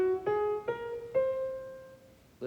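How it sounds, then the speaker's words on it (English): Debussy's whole tone scale played slowly on a single melodic instrument, four sustained notes stepping up one after another with a soft clean tone and no accompaniment. "then we get Debussy's whole tone scale, which sounds like this."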